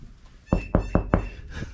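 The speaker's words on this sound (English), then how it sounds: "Knock on some type of wood." Four sharp knocks on a wooden surface, evenly spaced and close by, ring out clearly in a quiet garage during a custom vehicle build.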